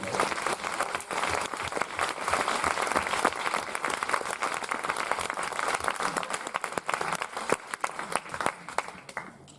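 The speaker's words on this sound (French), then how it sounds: "on peut l'applaudir quand même et elle va nous entendre" An audience applauds after a song, sustained dense clapping that holds steady for several seconds and then thins and fades away at the end.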